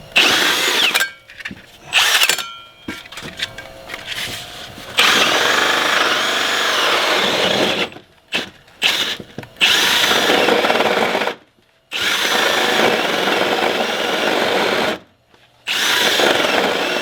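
A power drill with a core bit grinds loudly in repeated bursts, stopping and restarting several times as it bores a core hole during a new-construction furnace install, with short silent gaps between runs.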